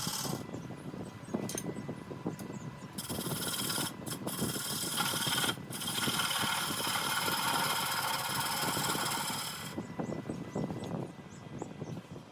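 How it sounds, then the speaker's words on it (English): A bowl gouge cuts into a spinning cedar burl tenon on a wood lathe, producing a continuous close hissing, rasping tone over the steady hum of the lathe motor, with a few brief breaks in the cut. "true up the tenon with a bowl gouge"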